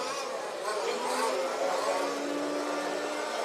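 Electric RC model race cars speed around the track at the EFRA European electric championship in Türkheim, producing a steady, loud, high-pitched whine of motors that holds for the whole stretch without pause.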